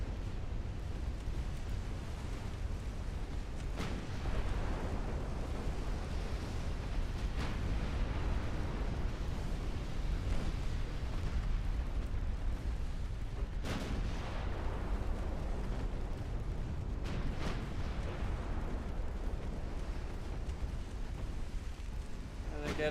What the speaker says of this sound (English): Got flash fire. Down goes another light cruiser.